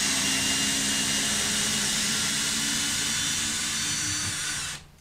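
A half-inch corded power drill drives long five-inch screws, roaring with a continuous loud whirring motor close up, then winding down abruptly at the end.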